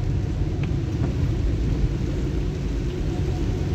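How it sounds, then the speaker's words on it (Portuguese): Heavy rain drums steadily on a car driving through Curitiba, Brazil, on a wet day, a dense continuous wash of noise over a low road and engine rumble, with no voices. "Tá chovendo o dia todinho, mas não tá assim frio, sabe?"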